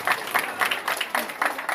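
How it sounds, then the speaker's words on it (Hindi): Rhythmic clapping from a school audience at a Grandparents' Day event, welcoming a grandfather guest; a steady patter of hands in bursts, moderately near, with no talk over it. "मैं चाहता हूं कि जोरदार ताली"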